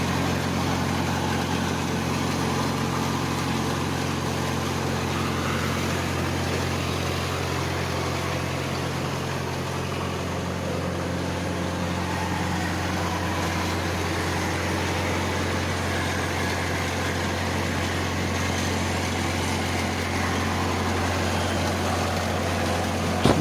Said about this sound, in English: This is a dewatering set which worked on diesel.